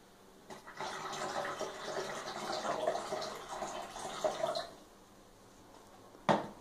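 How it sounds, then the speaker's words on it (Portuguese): Sodium hypochlorite being poured into water, a steady splashing pour lasting about four seconds at moderate volume, then fading, followed by a brief sharp clink near the end. "Depois você adiciona o hipoclorito de sódio, 175 ml de hipoclorito de sódio."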